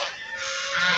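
A fancy-breed chicken calls in one sustained, nasal honking cry lasting about a second, loud and close, with no talk over it.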